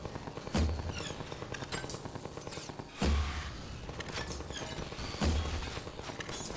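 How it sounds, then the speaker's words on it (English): Sustained rapid gunfire in Half-Life 2 aimed at a turret, a dense crackling stream punctuated by three heavy booming thumps spaced a couple of seconds apart, loud and continuous. "So why can't I shoot this turret down but I can shoot the others?"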